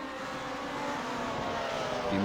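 Vintage Formula One race car engines in Grand Prix Legends at Monza, a sustained buzzing engine drone with rising pitch near the end, heard steadily throughout.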